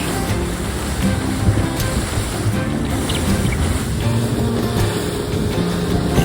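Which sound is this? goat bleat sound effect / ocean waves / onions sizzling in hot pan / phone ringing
ocean waves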